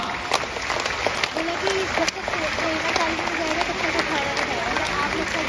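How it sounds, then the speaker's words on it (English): An audience claps at a sea lion show at Singapore Zoo, a dense burst of many hands applauding at once, close and continuous, with a presenter's amplified voice talking over it. "Now you all can try to clap as much as you want to distract him"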